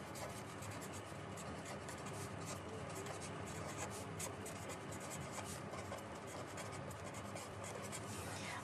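A pen scratches steadily across paper while accounting entries are written, a faint continuous rubbing under a voice talking.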